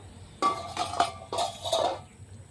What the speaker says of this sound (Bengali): পাঁচ মিনিট হয়ে গেছে ঢাকাটা উঠিয়ে নেব